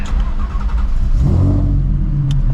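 A Shelby GT350 Mustang with its Coyote V8 revs loudly up close, a deep rumbling engine swelling in pitch, then the car stalls and the sound drops away.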